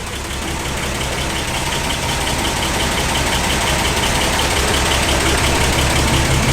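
An old Dodge engine in a Dennis Poore Alfa Romeo 8C-35 transporter idles loudly and steadily up close, with a continuous rough rumble and no voices.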